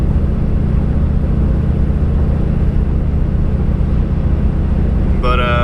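A cammed Chevrolet Silverado pickup with a stock torque converter cruises on the highway, its steady, heavy low rumble droning throughout, with a brief voice at the very end.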